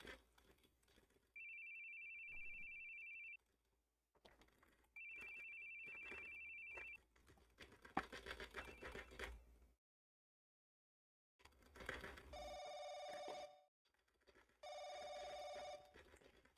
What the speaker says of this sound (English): I think Uri has used this specific ringtone in every single one of her games.